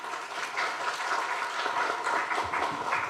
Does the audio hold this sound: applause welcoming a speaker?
yes